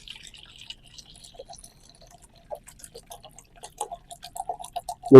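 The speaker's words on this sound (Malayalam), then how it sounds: "ഒരു അര ലിറ്റർ വെള്ളം നമുക്ക് ഒരു പാത്രത്തിലേക്ക് ഒഴിച്ചു കൊടുക്കാം" Water poured into a vessel, about half a litre, in a garden setting: a light trickle first, then a run of quick dripping splashes that grows louder and closer toward the end, with no voices.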